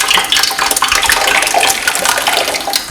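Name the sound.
pouring stew into a pot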